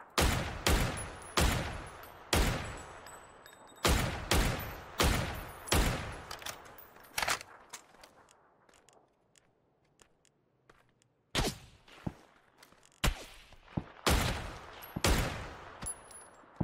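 Rapid gunfire from a PUBG match crackles in clusters of loud shots and automatic bursts, with a lull in the middle before more volleys resume, some shots near and others more distant.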